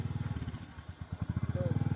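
Motorcycle engine running nearby with a steady, rapid thumping putter that grows slightly louder, heard faintly over outdoor background noise.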